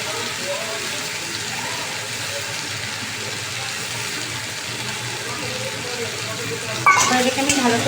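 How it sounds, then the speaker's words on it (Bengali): Paneer fries in a pan with a steady, close sizzle throughout, and a louder splashy burst near the end. "এবার এটাকে ভালো করে ভাজবো।"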